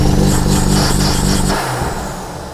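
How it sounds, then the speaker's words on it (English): A BMW M3 fitted with front mount intakes revs hard on launch control, a loud close engine roar held at high revs that then drops away and fades slightly, with no talking. "Now it's time to show you what this thing sounds like from launch control"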